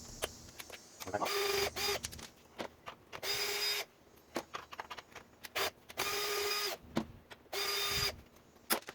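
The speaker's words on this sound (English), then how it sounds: "I'll let it come out. I can use this drill." Power drill spinning in repeated bursts while removing brake parts from a 2015 Ford Mustang GT race car, close and loud, with several short whirring runs separated by clanks and handling noises.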